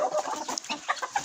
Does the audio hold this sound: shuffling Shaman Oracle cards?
no